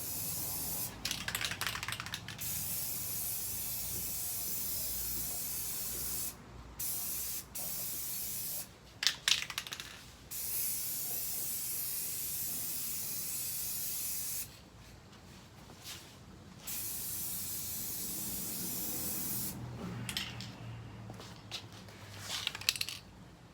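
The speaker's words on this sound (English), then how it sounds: "I've been shaking the crap out of this spray paint." Several separate bursts of spray paint hissing onto a car in matte ink blue, each lasting a second or two with quieter gaps between, close and fairly loud over a low background rumble.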